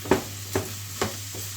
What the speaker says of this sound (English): So literally all I'm doing, stir these around in the pan.